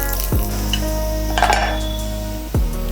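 Finely chopped garlic sizzles in a pan for fat-less vegetable fried rice, a steady frying hiss close up, broken by a couple of sharp utensil knocks against the pan and brief stirring.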